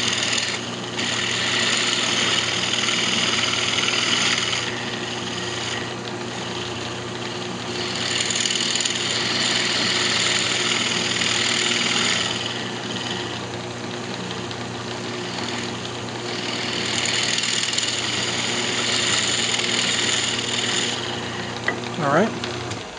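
A wood lathe turns a Christmas ornament while a spindle gouge cuts it, giving a steady close motor hum with broad scraping swells that rise and fall in several passes.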